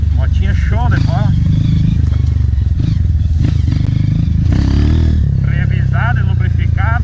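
Honda CRF230F 2016 dirt bike with a Belpart exhaust, its engine idling and blipping close by with a steady low thrum, while someone talks over it.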